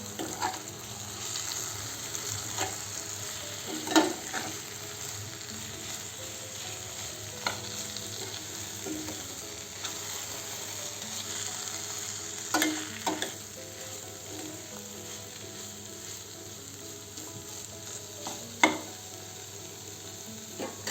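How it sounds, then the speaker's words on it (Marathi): Grated mixture stirred into tender bamboo shoot vegetable frying in a pan, a steady close sizzle broken by occasional scraping clinks of the spoon, with no talking. "किसलेलं मिश्रण घालू आणि असं चांगल्याने फिरवून घेऊ"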